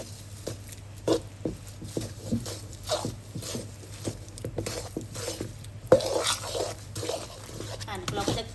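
Sugar simmering into dark caramel in a pot, stirred steadily with a utensil to give a soft repeated scraping rhythm over quiet bubbling, close and moderately faint.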